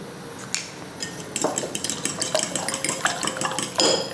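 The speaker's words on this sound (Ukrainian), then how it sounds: "І виделкою перемішуємо так, щоб з'єдналися білки і жовтки." A fork clinks and scrapes rapidly against a bowl, beating eggs in quick uneven strokes that grow busier toward the end, close up with no voices.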